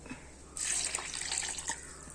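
Water poured into a pan of thick fish curry: a short, quiet steady stream of liquid that starts suddenly and runs for about a second and a half, with nobody speaking.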